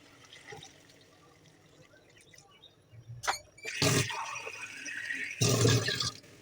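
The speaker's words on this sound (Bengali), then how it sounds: "দেখুন এখন এটার মধ্যে আমি পানি অ্যাড করবো।" Water pours into a pan of pangas fish curry in two short splashing bursts, with quiet kitchen background between them.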